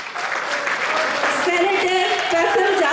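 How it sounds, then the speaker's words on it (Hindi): Audience at a Dallas event applauding during a standing ovation for a senator, a dense steady wash of clapping mixed with crowd voices and cheering throughout. "standing ovation"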